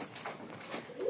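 A pigeon coos softly and briefly, close by in a loft or coop, with low murmuring background noise.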